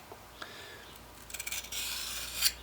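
A small knife blade, about 3.5 inches, is drawn across a DMT credit-card-size diamond sharpener, giving faint dry rasping strokes that build into a denser scraping burst near the end.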